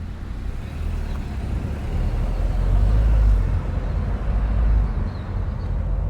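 A Nissan Kicks with a 1.0 turbo engine drives along, a steady low engine and road rumble that swells and eases slightly, heard from inside the cabin.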